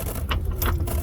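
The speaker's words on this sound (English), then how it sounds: "I'm just going to tighten these down with a 3/4 or a 9mm or a 19mm" A ratchet tightens a bolt on a Chevy Silverado rear seat, giving a few quick, close clicking strokes in short bursts.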